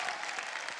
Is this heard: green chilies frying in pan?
no